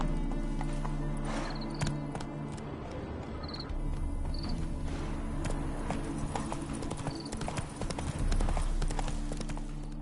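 In the Witcher 3 video game, the horse Roach trots with steady, rhythmic clip-clopping hooves close by, alongside a low game soundscape and a brief whinny.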